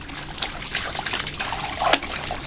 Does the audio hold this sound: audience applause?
no